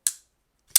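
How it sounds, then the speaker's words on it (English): Two sharp metallic clicks from a Shirogorov F95R flipper pocketknife opening on bearings, about two-thirds of a second apart, crisp and close, with silence between them. "This is the sound of a Shirogorov knife"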